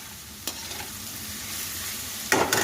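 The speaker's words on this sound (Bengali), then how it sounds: "আলু আর গাজর ভাজা হচ্ছে।" Diced potatoes and carrots fry loudly in a pan for a semolina upma breakfast, a constant close sizzle with scraping stirs near the end.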